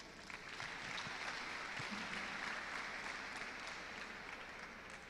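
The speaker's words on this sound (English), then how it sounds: "Clap for yourselves." Convocation lecture audience applauding, a steady sustained wash of many hands clapping heard at a distance and fairly faint, with no talk over it.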